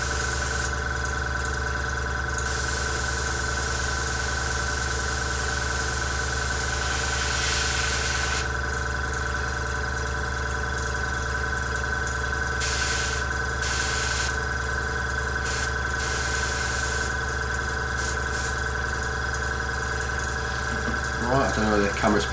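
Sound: airbrush air compressor running

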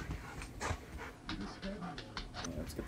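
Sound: dog panting and whimpering

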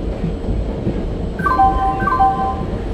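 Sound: Shatabdi Express train arriving at platform, Indian Train Simulator video game

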